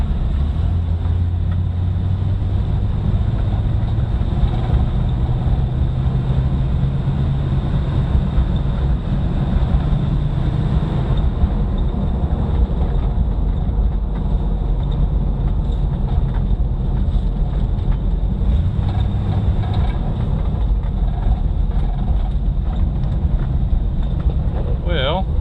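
A Jeep pulls away in first gear, its low engine drone and drivetrain rumble steady and close throughout, with wind buffeting the microphone and a faint voice now and then.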